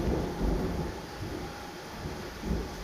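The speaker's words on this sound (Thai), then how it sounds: "นี่ก็เริ่มฝนตก" Thunderstorm with rain beginning to fall, a broad steady roar of rain and low rumbling thunder that swells near the start and again near the end.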